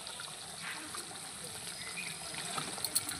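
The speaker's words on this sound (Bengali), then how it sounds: "দেখুন কত সুন্দর ঝোলটা ফুটছে" Fish curry broth made with mustard and poppy seed, cooking Dhela and Bhola fish, bubbles in a pan on the stove, giving a soft, steady simmering gurgle and hiss with no voices.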